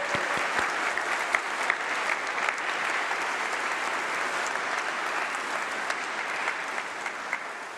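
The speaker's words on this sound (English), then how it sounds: "He deserves another round of applause." Warm audience applause breaks out at a university winter graduation ceremony after a speech, a full, steady round of clapping from a large seated crowd, loud and sustained, gently tapering near the end.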